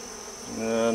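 Honeybees buzz at an open hive where they have drawn out new comb. A steady, close drone swells louder over one brief second.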